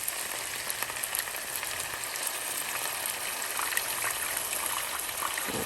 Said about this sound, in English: I'm going to start pouring my water in there.